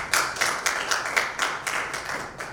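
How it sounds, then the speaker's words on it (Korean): An audience at a water forum session claps briefly for a presenter, a small group giving sparse, distinct handclaps in an uneven rhythm, close and clear. "박수 좀 보내주시죠."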